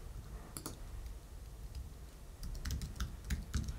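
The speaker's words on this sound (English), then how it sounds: "I am trying to type the code of an already existing function" Code being typed on a computer keyboard: a steady run of clicky keystrokes, some sparse and some in quick clusters, sitting close over a low background hum with no speech.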